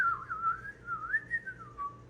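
A pet bird gives a clear, wavering whistle that slides up and down in pitch for about two seconds. It is close and fairly soft over a quiet background.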